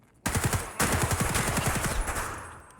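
A DT MDR .308 rifle hip-fired in the video game Escape from Tarkov: two close, loud rapid-fire bursts of heavy shots in quick rhythm, the second longer, ending in a fading reverberant tail.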